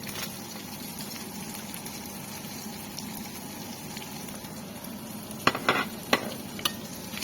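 Half an onion sautés slowly in a pan, a soft, steady sizzle close by that runs quietly throughout until a few crisp spatula clicks and scrapes near the end.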